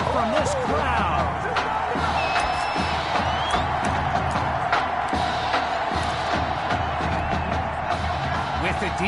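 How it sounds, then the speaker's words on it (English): A stadium crowd roars in Madden 21, a broad steady wash of cheering and noise that holds loud throughout with scattered claps and whoops, under a commentator's voice. "A big-time play that gets a roar from this crowd"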